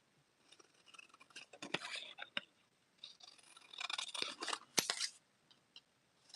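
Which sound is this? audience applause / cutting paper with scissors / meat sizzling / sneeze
cutting paper with scissors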